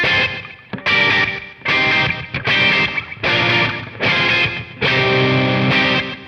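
An electric guitar plays through a Mr Black JDD-3000+ mk. II digital delay set for slapback, giving loud, distorted chords in about six sustained bursts with a short echo trailing each strike.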